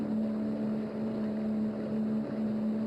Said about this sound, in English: The sound of our motorboat unsettling the pervasive calm.